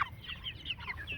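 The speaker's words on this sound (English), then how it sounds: "This morning I thought we'd show you a little bit about our meat birds." Meat chickens in a chicken tractor give soft, close clucks and short murmuring calls in a quick, uneven run, quiet against a low background.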